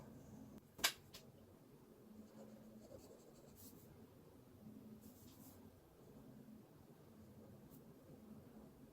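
A heavy-handed writer pressing a pen across a postcard: quiet, steady scratching strokes with one sharp tap near the start, faint and close.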